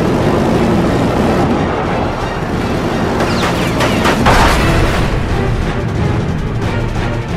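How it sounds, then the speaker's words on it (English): A fighter aircraft fires a three-second cannon burst of high-explosive incendiary rounds into a MiG-17. The blasts crackle and boom loudly midway through over a constant roaring engine wash. "nearly 60 pounds of high explosive incendiary ammunition devastate the rear half of the MiG-17"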